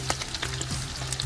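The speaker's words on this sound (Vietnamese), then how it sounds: "Khô cỡ mặt chiên hồi nãy giờ cũng được 5 phút rồi." Dried pineapple fish (khô cá dứa) frying in hot oil outdoors, a steady, close crackling sizzle with small pops running throughout, no voices.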